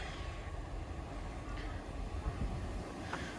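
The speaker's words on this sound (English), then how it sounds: "Our train is approaching." A train approaching a railway station sends out a low, steady rumble with faint rattles and hiss under the ambient platform noise, fairly quiet and continuous throughout.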